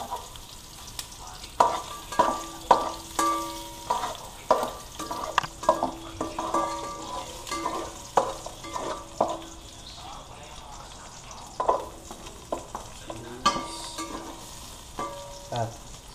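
Garlic sautés in a pan with a light sizzle, broken by intermittent scraping and clattering of utensils. Some faint, tonal kitchen clinks sound over a low background.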